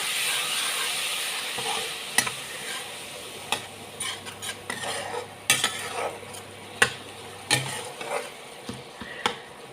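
Koi fish masala with ginger paste and a splash of water sautés in a pan, giving a soft, steady sizzle broken by sharp, irregular spatula clinks and scrapes against the metal.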